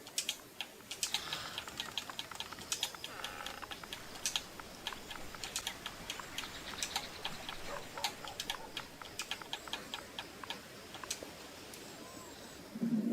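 Keys clatter in quick, irregular bursts on a keyboard while an address is typed, faint and close, with short pauses between runs of taps and no talking.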